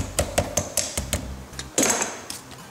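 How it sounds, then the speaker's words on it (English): Pliers used as a hammer to flatten the metal tabs of an ATV CV boot clamp flush make a quick series of sharp metallic taps and clinks, close by and uneven in rhythm, ending in a slightly louder scraping knock. "hammer them on down flush."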